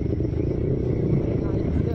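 Motorcycle engine rumbles steadily and loudly up close while riding past houses on a pilgrimage group ride, a continuous low drone with no talk over it.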